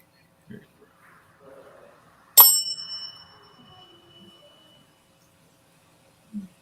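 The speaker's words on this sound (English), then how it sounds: "whoever's dinging the damn bell at Todd and Carmela's house" A bell dings once, sharp and ringing, during a paranormal investigation in a house, its tone fading over about a second amid faint murmured voices and quiet room noise.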